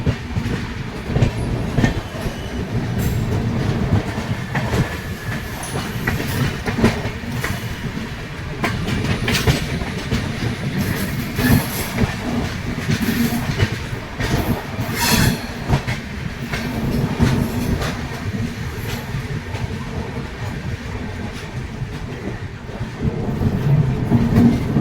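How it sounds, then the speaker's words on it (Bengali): A Digha–Visakhapatnam Express train runs steadily along the tracks, with continuous loud rumbling and clickety-clack of wheels over rail joints, heard close and alone for the whole stretch. "দৃশ্যটা দেখুন, সামনে পাহাড় আর দুটো আপ ডাউন ট্রেন কার্ভ নিয়ে এগোচ্ছে"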